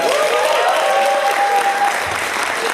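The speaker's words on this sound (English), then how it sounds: "round of applause for Nicole" Convention audience applause for a panel guest at a fan convention, a continuous, loud wash of clapping from a crowd with a voice briefly heard beneath it.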